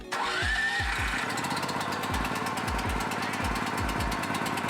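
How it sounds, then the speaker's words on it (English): A portable generator engine catching and starting up, then running at a fast, steady chug with a rhythmic low thump repeating through the clip, loud and close. "lights and cameras to the generator. Idle open, gas full, oil ready, starting."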